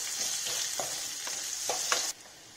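Garlic and onion sauté in a pan for Andhra-style tomato pappu, a gentle continuous sizzle with several light spatula scrapes, ending abruptly in near silence.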